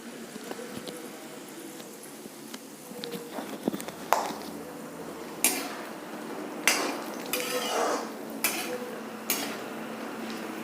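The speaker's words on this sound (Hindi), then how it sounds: "अब मैं इन सबको एक प्लेट में शिफ्ट कर लूँगी।" Ghee-fried dry fruits are scooped from a pan onto a plate, giving sharp metallic scrapes and clinks of a spoon against cookware, spaced and close, with no talking.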